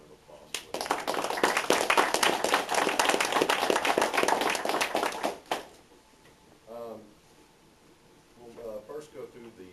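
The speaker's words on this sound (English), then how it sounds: "I first just want everybody to give them a round of applause." Applause from attendees at a meeting, dense clapping from the start for about five seconds, then cut off, followed by faint scattered sounds and quiet talk.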